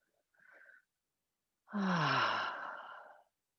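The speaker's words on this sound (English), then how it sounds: "And we take half a minute to breathe." A single deep exhale, drawn-out and sigh-like, follows a brief quieter breath during a core mat stretch in a ground-based exercise class; close and clear with no talking.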